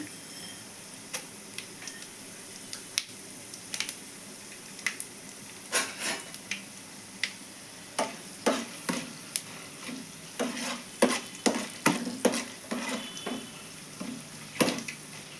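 Chana dal and tempering spices fry in hot oil in a pan, a quiet sizzle broken by repeated sharp scraping taps of a spatula stirring, growing more frequent toward the end, with no voices.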